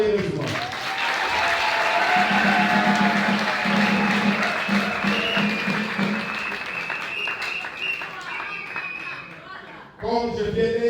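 Warm audience applause at a political gathering, dense and sustained clapping mixed with cheers and a raised voice over it, easing off before speech returns at the close.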